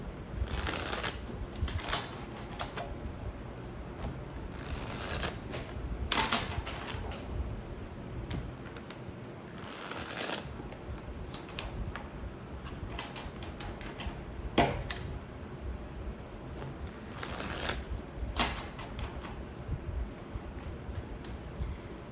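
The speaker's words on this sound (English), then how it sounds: "Let's do the tarot. I will show you the shuffle." Tarot cards shuffled by hand in repeated bursts of riffling and flicking, each flurry followed by a short pause, close and fairly clear across a steady stretch with no talking.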